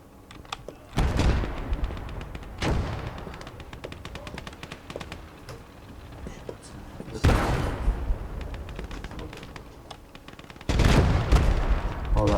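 Bursts of submachine gun fire from a Gates of Hell urban battle, heavy volleys clustered around three moments amid a constant backdrop of scattered shots and battlefield noise.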